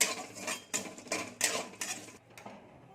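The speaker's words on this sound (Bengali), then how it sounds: "এই দেখুন জিরে দিয়ে দিচ্ছি" A spoon scattering cumin seeds into a kadai of heating oil makes a quick run of close metallic taps and clinks, loud at first and then thinning to soft scrapes.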